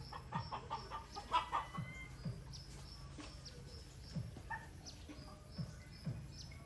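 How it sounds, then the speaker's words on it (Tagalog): A bird calls with soft, repeated clucking and chirping notes at irregular intervals, faint and distant over a quiet outdoor background. "Narinig nyo ba yung huni niya?"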